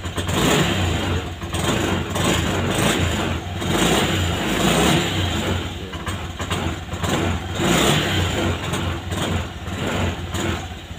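Honda Scoopy scooter engine revs repeatedly, rising and falling in steady surges close to the microphone, with no talking.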